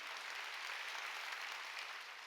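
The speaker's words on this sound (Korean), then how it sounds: "박수로 하나님께 영광 돌려." A church congregation applauding during a Sunday service: a brief, dense wash of clapping heard at a distance and quite faint, steady from start to finish.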